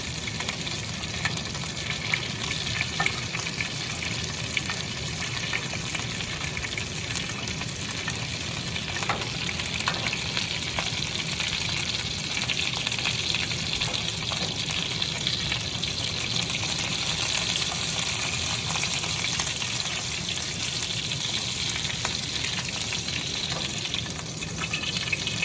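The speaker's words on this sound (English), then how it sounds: "To keep them nice and moist, this is what we call basting." Chicken ballotines fry in a pan while being basted, a steady close sizzle and bubbling crackle of hot fat with faint stirring and spooning sounds running throughout, with no talking.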